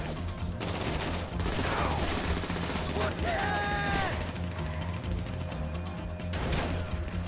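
Rapid bursts of gunfire with mechanical clatter during a heist in Grand Theft Auto V, steady and dense, with occasional tonal game effects mixed in.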